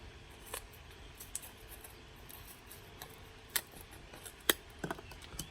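Small scissors snip garden plants several times in quick, irregular clicks, close and fairly quiet, with no talking.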